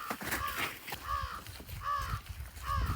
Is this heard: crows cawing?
yes